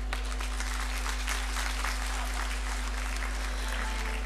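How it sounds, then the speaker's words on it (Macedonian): Steady applause from an audience at a beauty pageant event, sending off the guests, a dense even wash of clapping that holds throughout without voices, with a low steady hum beneath. "Да ги испратиме со аплауз нашите гости."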